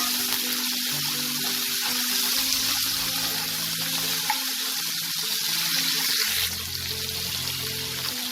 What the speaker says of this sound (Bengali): অল্প একটু নুন, 1 চিমটে একটু হলুদ দিয়ে আলুটাকে লাল করে ভেজে নেব